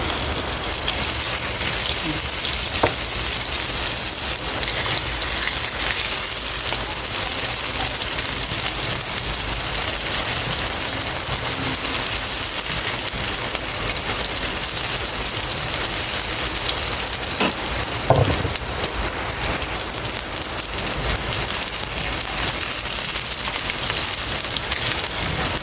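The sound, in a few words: onions frying in a pan for squid adobo in coconut milk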